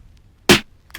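Three snare drum samples layered into one hit for a beat: a single crisp, punchy crack rings out alone, followed by a softer partial hit right at the end.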